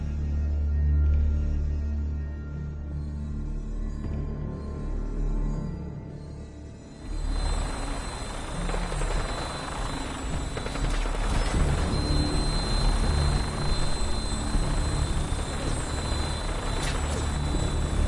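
A steady, heavy rotor-like engine roar of an aircraft in flight in the video game Fallout 4 runs throughout, getting fuller and brighter partway through, with no voices.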